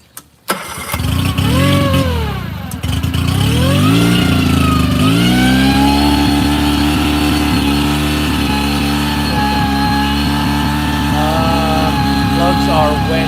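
A 9.9 hp Mercury outboard boat motor sputters to life, revs unevenly, then settles into a steady droning idle that runs on without stopping.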